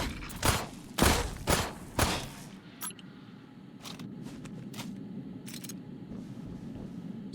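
Gunfire from enemies being shot in the video game Memories of Mars, heard as four loud, sharp shots in quick succession, followed by softer scattered pops and clicks over a steady low ambient rumble.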